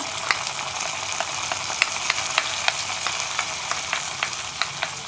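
Hot fried tempering (varavu) poured into Kerala parippu dal curry, giving a steady, bright sizzle close by with scattered crackles and pops throughout, loud and continuous, no talking.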